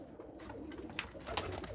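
A black-faced Sialkoti pigeon coos softly in a couple of brief, low calls over a faint, steady background hum, with no talking.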